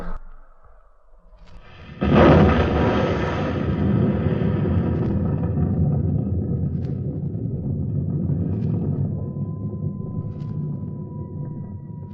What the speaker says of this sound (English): You'll hear the sound of the explosion any second now.